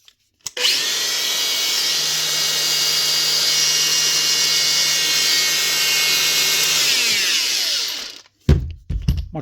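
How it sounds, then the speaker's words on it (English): A repaired Makita grinder spins up and runs steadily for about eight seconds with a loud, high whine, then spools down and stops, followed by a few short knocks and handling sounds. "That's the first Makita grinder up and running."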